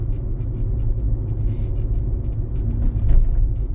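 A car driving in third gear at roughly 35 km/h through town streets, heard from inside as a steady low engine and road rumble that swells slightly toward the end.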